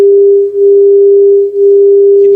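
Two close sine waves beating: a steady pure tone hums loudly, its volume pulsing in slow, regular beats about once per second.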